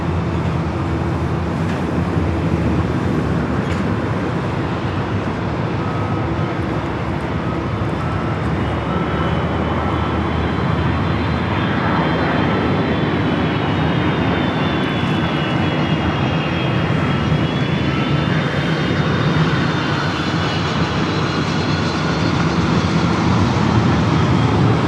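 Delta Boeing 757 arriving at Los Angeles airport: a continuous loud jet engine roar with a faint whining tone that slowly shifts in pitch, steady from start to finish.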